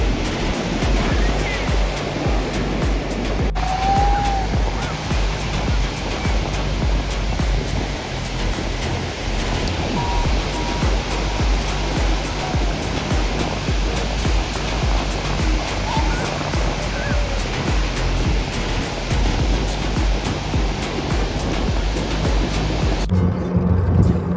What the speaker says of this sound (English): But waves are huge.